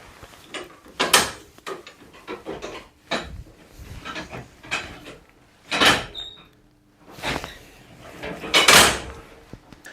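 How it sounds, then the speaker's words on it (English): Metallic clunks and clicks ring out in a railway signal box as a key token is taken from its token instrument, several sharp knocks spaced through with quiet pauses between. "after removing the key token from the instrument"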